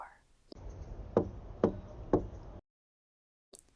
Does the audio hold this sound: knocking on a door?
yes